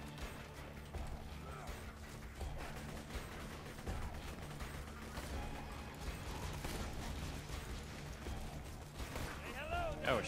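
Enemy gunfire rattles on in a Borderlands 2 co-op firefight, steady mechanical bursts of shots mixed with game effects, fairly quiet and continuous throughout.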